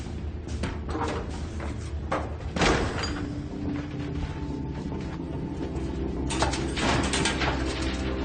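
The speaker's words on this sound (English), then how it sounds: "Major, shut the door." A door being shut indoors in a film scene, a sharp thud-like clunk early on, followed by a few lighter knocks and rattles over a steady low rumble of background noise, with no talking.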